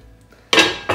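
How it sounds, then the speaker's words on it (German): A lid set on a pot of potato bread baking in the oven at 220 degrees, two quick metallic clanks close together after a brief quiet moment. "hier den Deckel drauf zu machen"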